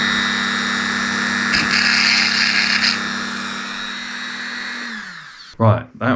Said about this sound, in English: The noise of a Dremel grinding the inside